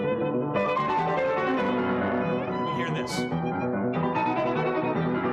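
Full orchestral music in a concert hall with rich sustained chords, steady and loud, as someone speaks briefly over it.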